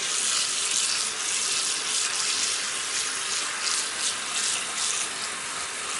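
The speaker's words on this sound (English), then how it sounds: "And then we're just going to put some water on this." Tap water runs steadily over raw chicken legs being washed in a sink, a constant close hiss and splash that continues without a break and with no talking.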